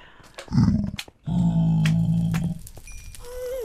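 A tamed wolf companion in the Minecraft video game growls low and rough in two bursts, close and loud, with a short gap between them and no talk over it.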